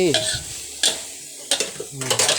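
Chicken stir-fried with ginger in a pan, bursts of scraping and clanking from a spatula over a sizzling background, several separate strokes close up, no talking.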